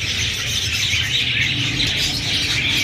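Pet birds at an outdoor Sunday bird market in Bahawalpur fill the air with dense, continuous high chirping and tweeting, loud and steady throughout with no pauses.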